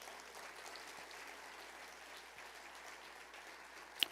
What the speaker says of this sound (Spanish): Un aplauso al Señor Jesús